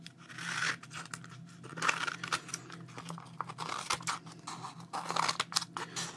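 Scissors trimming a scrap of paper for an art journal page, several quick close snips and rustles, quiet and alone.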